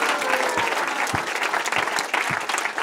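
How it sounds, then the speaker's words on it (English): At a kirtan sacred-sound festival, the crowd breaks into loud, close applause for an enthusiastic chanter, a thick wash of clapping with a few heavy thumps scattered through it. "give her a big round of applause"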